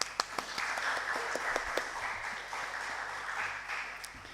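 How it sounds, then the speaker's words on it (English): An audience at a university law student event applauds the guest professors, a brief, fairly quiet burst of clapping that swells and then tapers off, with no speech over it. "Please give them a huge round of applause."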